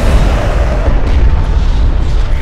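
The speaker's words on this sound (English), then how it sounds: "Enemy airstrike inbound. A turret is under fire." Heavy, continuous booming blasts from an airstrike hitting a turret in Homeworld: Deserts of Kharak, dense low rumbling explosions filling the whole stretch, loud and close.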